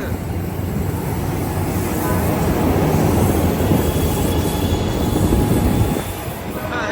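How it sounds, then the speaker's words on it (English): An Amtrak Capital Corridor train with an SC44 Charger locomotive rumbles through Oakland's Jack London Square station, a loud steady roar of wheels and cars that eases slightly near the end. "they got that train going to Sacramento"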